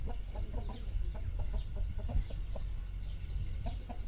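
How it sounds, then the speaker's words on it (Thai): A fighting rooster (gamecock) at a rural home gives a series of short, close clucks in an irregular rhythm, with no talk over them. "อันนี้เป็นไก่ชนนะครับ"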